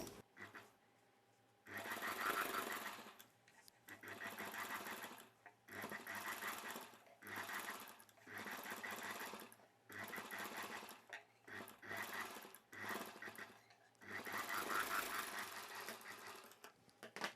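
A sewing machine stitches the lining piece of a long gown, its fast mechanical whirring running in repeated bursts of a second or two separated by short pauses, steady and fairly close.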